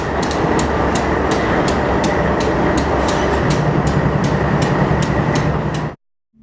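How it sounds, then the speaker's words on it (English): A freight train rolls steadily past near Glenwood Canyon, a loud continuous rumble with regular clacking wheel beats over the rail joints, cutting off abruptly at the end. "this was the first freight train to emerge from Glenwood Canyon"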